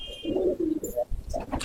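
Pigeons in a backyard loft give a soft, rolling coo that swells and fades over a second or so, close by, with a faint voice or rustle creeping in at the end.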